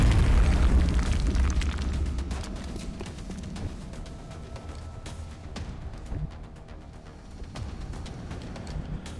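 A frag grenade goes off in the turn-based video game XCOM Long War with a deep, heavy boom, then rumbles and crackles away over several seconds.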